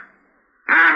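A duck call is blown, giving one short loud nasal quack close by after a faint lingering tone and a brief silence.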